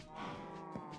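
Cows in a Minecraft one-block cow farm packed with 24 animals, lowing in overlapping moos close by, with a brief higher bleat near the end and no talking.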